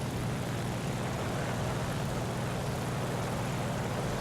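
A low-tier propeller plane in War Thunder drones steadily and unbroken, a dense, buzzing engine roar holding at an even, moderate level throughout.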